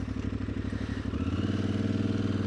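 Aprilia Tuareg motorcycle engine dropping from third gear with light braking, a close steady throbbing exhaust note whose pitch shifts midway as the revs change, with no talk.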